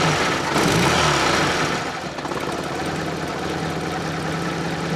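A cold Fiat Panda 4x4 engine runs without choke, a close, steady mid-pitched idle with a slight knocking texture and a brief swell of revs at the start before settling.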